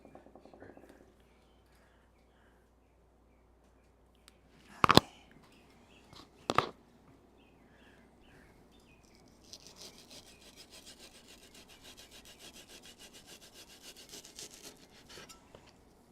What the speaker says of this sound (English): Can you guys hear the sound of the knife slicing?